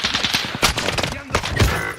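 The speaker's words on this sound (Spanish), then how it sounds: "Disparan de la casa" Rapid bursts of automatic gunfire crackle from a house during a Warzone match, dense and loud with overlapping shots filling the whole two seconds, while a voice speaks over the battle.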